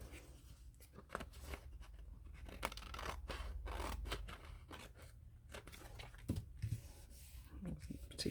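Scissors snip through paper ephemera for a journal, a run of soft crisp cuts close by with low room hum and faint rustling underneath.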